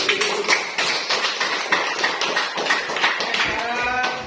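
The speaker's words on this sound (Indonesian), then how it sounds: "Oke, dari tepuk tangan untuk kelompok 2." Classroom applause for a student group, a dense run of many hands clapping close by, steady and fairly loud throughout.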